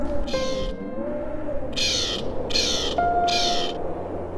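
A baby crow in the video game The Librarian gives four short, harsh caws, spaced about half a second apart over a steady backdrop of soft game music.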